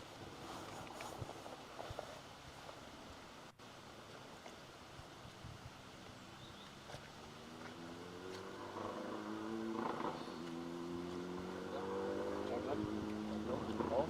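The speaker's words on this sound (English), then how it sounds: "Jeff Cottrell, the final car on entry, going through this stage." A rally car on a forest stage at Rally North Wales is heard approaching from afar, its engine note rising and growing louder toward the end over wind noise while a commentator talks throughout.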